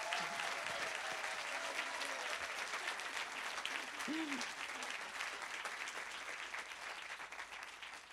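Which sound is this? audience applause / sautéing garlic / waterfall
audience applause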